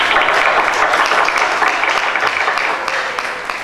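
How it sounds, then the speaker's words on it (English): An audience claps at an engineering conference hall, a dense steady patter of many hands filling the room and tapering slightly toward the end, with no voices over it. "People should clap now."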